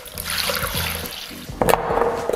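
Water, 750 ml, poured into a Thermomix bowl already holding passata, a steady trickling pour with a few hollow plopping knocks, growing louder and splashier near the end.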